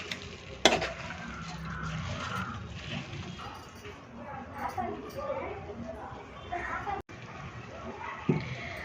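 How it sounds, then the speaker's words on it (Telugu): Food being stirred in a pan with a spoon scraping the bottom, a sharp clank at the start, and faint voices in the background. "ఇట్లా బాగా 2 నిమిషాలు కలుపుకోవాలి"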